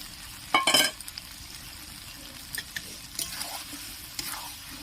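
Fried pointed gourd and potatoes are tossed into a pan with prawns and spice paste, giving a short burst of scraping, clattering stirring followed by quieter intermittent scrapes over a low, steady sizzle.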